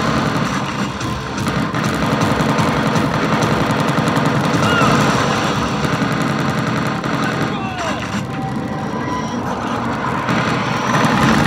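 Rapid turret gunfire from a Terminator Salvation arcade machine in a pizza arcade, loud continuous bursts under engine-like rumble, with a voice speaking over it.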